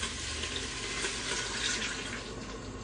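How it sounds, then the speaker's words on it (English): A cup of water tipped into a hot, sizzling Instant Pot pork chop and vegetable dish, giving a continuous rushing hiss of liquid hitting the pot for a few seconds, close and alone. "I am going to pour it right into the Instant Pot, and that is going to stop that sizzle"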